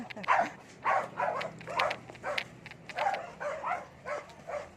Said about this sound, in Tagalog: Maraming aso, matapang.